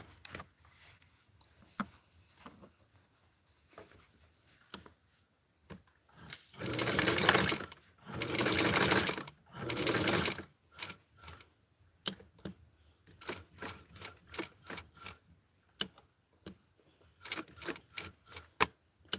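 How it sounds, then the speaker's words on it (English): A sewing machine stitches close to the edge of a strap on a Tutti Flower Power garment, running in several loud bursts between quieter handling clicks and taps, with no talking. "So I'm sewing this really close to the edge."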